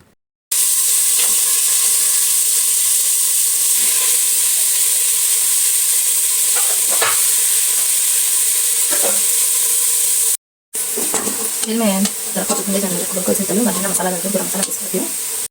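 Mutton sizzling and frying in oil inside a pressure cooker, a steady loud hiss running throughout with a brief break near the end, followed by bubbling, stirring-like crackle.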